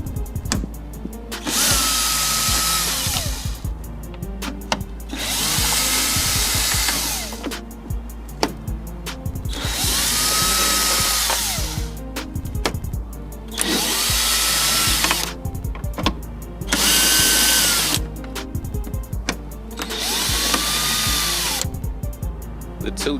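A power tool spins a 10mm socket on the upper grille bolts of a 2007-2014 GMC Yukon, sounding in about six loud, whining bursts separated by short pauses, close up with no talking.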